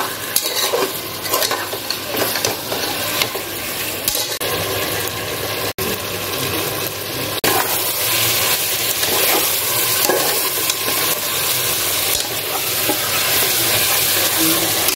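Mutton with spices and fried potatoes stirred in a hot pan for basanti pulao, a loud continuous sizzle with repeated spoon scrapes and clatter against the pot, close up and steady.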